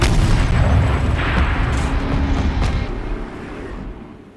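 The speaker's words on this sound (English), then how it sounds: "Rotate turret! And fire!" Turret fire in the video game Horizon Zero Dawn: a loud, booming blast with a dense rumbling tail that slowly fades over several seconds.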